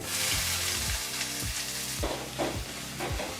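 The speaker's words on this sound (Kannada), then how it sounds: "ಈ ರೀತಿ ಈರುಳ್ಳಿನೂ ಸಹ ಸೇರಿಸಿದ ನಂತರ ನಾವು ಒಂದು 2 ನಿಮಿಷಗಳ ಕಾಲ ನೀಟಾಗಿ ಲೋ ಫ್ಲೇಮಲ್ಲೇ ಫ್ರೈ ಮಾಡ್ಕೋಬೇಕಾಗತ್ತೆ" Onions, cumin, curry leaves and broken chillies fry on a low flame for a bean and green gram palya, giving a dense close hiss with regular scraping stir strokes, about every half second, and no voices.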